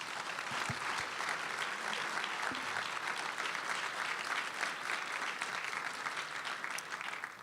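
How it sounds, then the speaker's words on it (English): A luncheon audience at the Ronald Reagan Institute applauds two speakers, Senator Ted Cruz and Secretary Betsy DeVos, with sustained, dense clapping that holds steady for several seconds before tapering. "let's give a round of applause for our two speakers"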